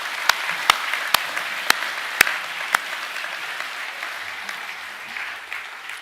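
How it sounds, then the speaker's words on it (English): Audience applause at a junior academic awards assembly in a school hall, a steady wash of clapping with several sharp, loud claps standing out near the start before the clapping thins toward the end. "We might give them another round of applause too."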